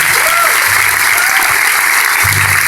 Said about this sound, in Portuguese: uma salva de palmas para as mães